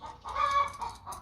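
A hen clucks in a short burst of several quick, moderately close calls, alone with no talk.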